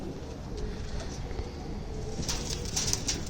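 Punjabi pigeons coo softly in a quiet enclosure, low murmuring calls repeating close by, with faint rustles.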